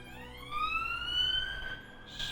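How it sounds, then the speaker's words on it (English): Police car sirens wail past at moderate distance, a rising and sliding electronic tone that holds steady and then fades, with no voices over it. "Speeding police cars."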